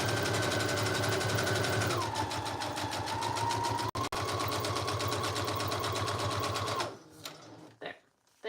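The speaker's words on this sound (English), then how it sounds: "I'm just going to sew down the bottom real quick." A sewing machine stitches down the bottom of fabric tags, a fast, steady mechanical whirring chatter at close range that runs for about seven seconds, then slows and stops with a few short bursts.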